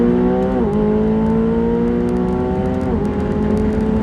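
A 900 hp McLaren 720S pulls hard at wide-open throttle through third and fourth gear, its engine drone rising steadily with two quick dips at upshifts, loud and continuous from inside the cabin.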